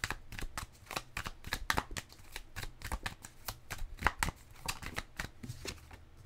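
Tarot cards being shuffled by hand at close range, a rapid series of crisp riffling snaps and slaps in an uneven rhythm, quiet and continuing throughout with no voice over it.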